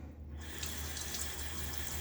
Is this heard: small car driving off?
no